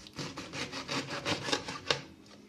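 A knife cuts through an artichoke at the base of its last leaf, giving a run of close, rhythmic fibrous crunching and scraping strokes with a sharper snap near the end, alone without talk.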